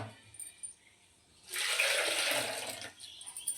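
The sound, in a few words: water being poured into fish sambar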